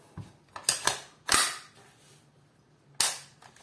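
A GSG 5 rifle's action and trigger are cycled during a function check: a quick series of sharp metallic clacks and snaps, then a pause, then one more loud clack, close and clear.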